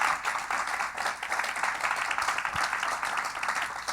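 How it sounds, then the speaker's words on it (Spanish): A church congregation applauding, a dense, steady wash of many hands clapping together that holds at an even, moderately loud level throughout. "dale un aplauso al Señor por eso."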